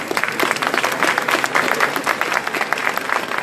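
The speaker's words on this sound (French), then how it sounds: "je vous propose peut-être de les applaudir pour les remercier" A conference audience at a business breakfast applauds the speakers, sustained, even clapping from a sizeable crowd that stays fairly loud for the whole stretch.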